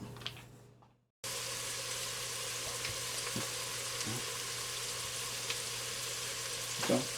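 Ground beef frying in a pot on a stovetop gives a steady, close sizzle that fills the clip after a short quiet gap, with a few faint clinks and stirring scrapes and no talking.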